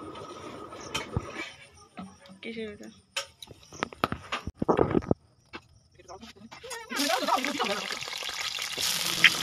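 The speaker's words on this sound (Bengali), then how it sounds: "আলুগুলো ভালো করে ভেজে নেব" Potatoes fry in oil in a wok. Scattered clatters and handling knocks come first, then a loud, dense sizzle swells up and holds steadily to the end.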